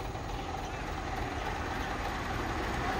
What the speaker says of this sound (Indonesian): ada trailer lagi dari atas